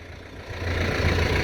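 A tractor engine runs loud and close, its low rumble building slightly over a second and a half of steady drone, with no voices.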